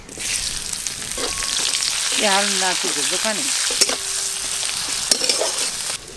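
Chopped onion sizzles steadily in oil, with extra oil added to the leftover fish-frying oil in a rural village kitchen, amid a continuous crackle with a few stirring scrapes and brief bursts of birdsong.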